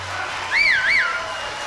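Audience applause at an award tribute show, a steady wash of clapping with a clear rising-and-falling whistle riding on top near the middle.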